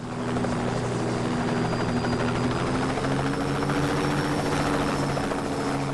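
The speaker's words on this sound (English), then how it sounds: "I actually land the helicopter. I don't crash it." A helicopter in the video game Just Cause 2 drones steadily and close, its rotor hum and engine whine holding constant throughout with no talk over it.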